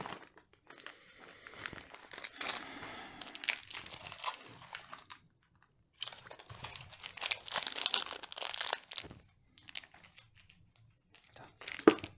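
Plastic bag of mounting hardware for an Arctic Liquid Freezer cooler being rummaged through during a PC workstation build, crinkling in bursts close by with pauses between, and a voice speaking at times.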